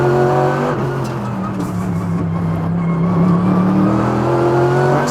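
A Mercedes AMG GT3 race car engine roars continuously on the Wuhan circuit, loud and close from inside, its pitch rising under full power with no talking.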